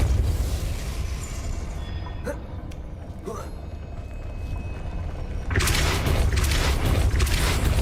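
The Depulso spell is cast in the Hogwarts Legacy video game: a sudden loud, broad rushing burst breaks in late and holds to the end, rising over steady game ambience.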